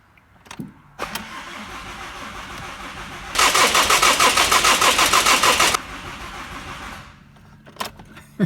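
A Ford Mondeo Mk5 2-litre diesel with a fault and low fuel pressure after a filter change cranks in a rapid, even churn for a couple of seconds, then catches and settles into a quieter idle, with small clicks and rattles before and after.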